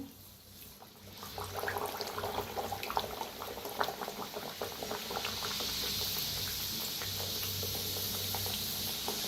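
Kachori deep frying in oil over low heat at home; a continuous bubbling hiss of hot oil, fairly faint, with a few small clinks near the start.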